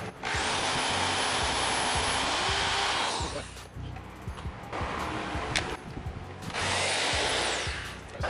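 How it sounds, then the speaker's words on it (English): A power drill with a 7/32 bit whines at high speed while boring holes during a car fuel pump install, in two long loud bursts separated by quieter clicks and handling sounds. "Drill holes are drilled."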